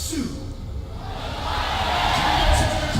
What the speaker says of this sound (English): A lot of people cheering here in the audience.